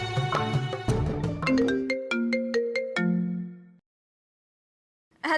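A phone ringtone plays a bright, descending melodic phrase of stepped tones, loud and close, then stops and falls silent before a brief new sound at the end.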